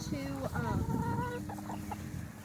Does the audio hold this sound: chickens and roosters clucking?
yes